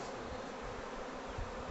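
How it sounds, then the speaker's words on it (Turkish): A steady, dense buzz of a honeybee swarm fills the whole stretch, many bees close by, with no voices. "o da bir sürü arı kaldı abi"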